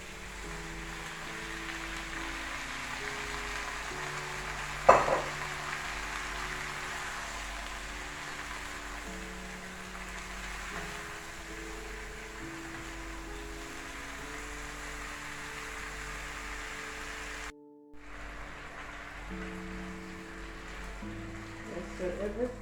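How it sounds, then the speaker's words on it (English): Broccoli, string beans, carrot and chocho sauté in a wok for Jamaican-style chicken chop suey, a soft, continuous hiss running throughout beneath a steady musical backing, with one brief clatter early on and a short dropout near the end. "So everything, all the vegetables get to saute and get some of this juice in the wok."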